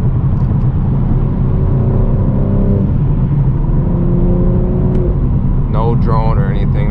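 BMW M4 G82 manual with a full titanium exhaust, valves opened, runs with a steady deep engine drone and rising rev tones, and a voice speaks briefly near the end over the engine.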